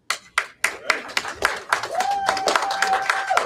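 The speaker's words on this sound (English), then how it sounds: "Clap it up, clap it up" Scattered hand claps from a candidate forum audience greet the winner of a seat draw, a handful of sharp claps at first building into steadier light clapping, with a sustained tone and some talk running underneath.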